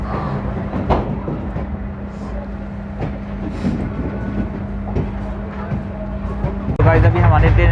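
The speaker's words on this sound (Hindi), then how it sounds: "जब ट्रेन खुलती है यहाँ से तो फिर मैं आपको दिखाता हूँ इस ट्रेन का यहाँ से डिपार्चर।" Ashram Express passenger train on the Ahmedabad to Delhi route, heard as a steady low rumble and hum with occasional clanks, swelling louder and busier in the final second.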